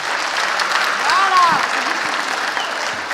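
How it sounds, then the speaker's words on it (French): Audience applause at a geosciences round-table event, steady clapping throughout with a voice speaking briefly over it. "un tonnerre d'applaudissements parce que vous mollissez pour Luna"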